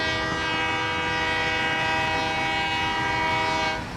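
In the Satisfactory video game, a train rolls past with its horn sounding one loud, sustained chord over the rumble of the rails, cutting off abruptly at the end.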